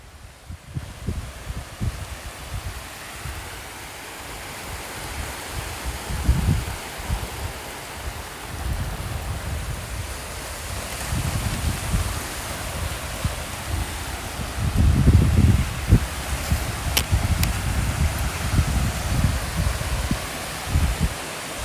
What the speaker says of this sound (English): The waves are making a lot of noise